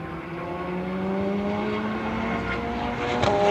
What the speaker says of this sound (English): There, see? Race cars.